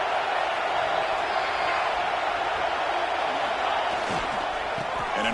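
Football stadium crowd roaring steadily through a game's final possession, a dense, sustained wash of cheering with no breaks, loud and continuous across the whole stretch.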